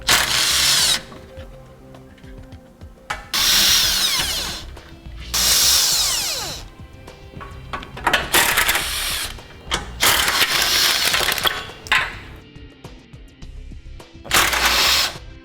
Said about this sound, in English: We'll use a 12mm socket and a really long extension.